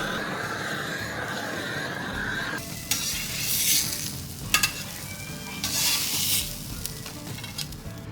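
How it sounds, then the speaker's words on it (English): Sandwich buns for chicken parmesan sandwiches toasting on a flat-top griddle, a steady close sizzle with bursts of louder frying hiss and a few scraping clicks. "Toast our buns."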